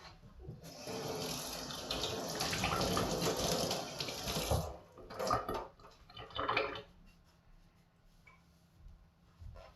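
Carbon steel knife blades rinsed and scrubbed with dish soap under a running tap, a steady close gush of water for several seconds, then breaking into intermittent splashes and drips as the flow is interrupted.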